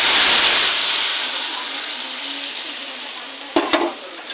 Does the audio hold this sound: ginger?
yes